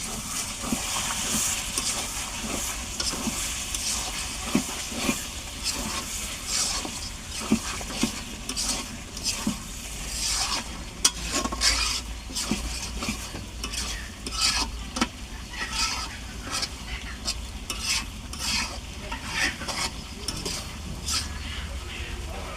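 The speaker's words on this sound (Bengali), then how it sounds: "ঢাকনাটা উঠিয়ে মাংসগুলো আবার নেড়ে চেড়ে নেবো" Beef bhuna meat is stirred in a pan, with steady sizzling and frying hiss under repeated scraping and clattering strokes of the spoon, close up and continuous, with no voices.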